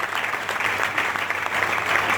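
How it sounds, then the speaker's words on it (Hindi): A room of people applauds at a team meeting in Delhi, a steady even wash of many hands clapping at moderate distance, continuous and unbroken with no talk. "तो आप अपने लिए तो जोरदार ताली बजाइए"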